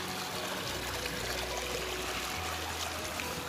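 Rain-swollen water pours through a broken earthen bund between flooded paddy fields in the Konkan, a faint, steady rushing and gurgling flow with no voices.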